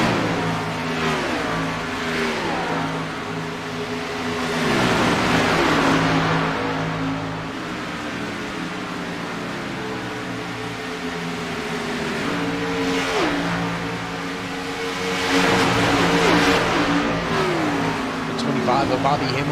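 Stock cars race in a pack around the Las Vegas oval, engines roaring continuously with surges as cars pass, loud and close under steady race commentary.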